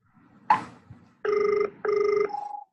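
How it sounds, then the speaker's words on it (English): A telephone ringback tone sounds during an outgoing call, two long buzzing rings with a short gap, preceded by a brief voice and clear otherwise. "Oh, it's ringing."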